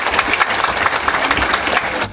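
Dense applause from a congregation at a Catholic sermon, steady and fairly loud for the whole moment with no voices over it.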